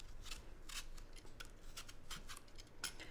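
Bramley cooking apples being peeled for a crumble, a series of soft, close scraping strokes of a knife against the skin in an uneven rhythm, faint and alone.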